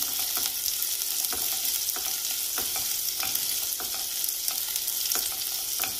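Green chilies and ginger sauté in a pan over a high gas flame for veg manchow soup, a steady hiss of frying with regular scraping stirs every half second or so.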